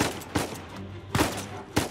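Gunfire in the video game Uncharted 4, three loud sharp bursts of shots spaced about a second apart with reverberant tails between them.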